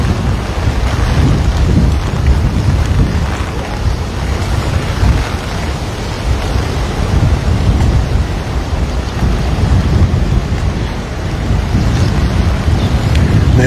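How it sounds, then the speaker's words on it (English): Heavy rain pours steadily in Waikiki, Hawaii, a dense roar of wind-driven drops hitting close by, with deep gusting rumble underneath and no letup throughout. "The rain's coming straight at me"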